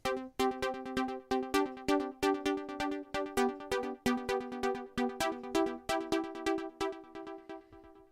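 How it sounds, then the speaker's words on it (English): A keyboard synth patch of pulsating chords, played in Mainstage, throbs in steady rhythmic pulses, each chord swelling and cutting off in a regular pattern, clear and alone without any voices. "it's what I've called pulsating chords,"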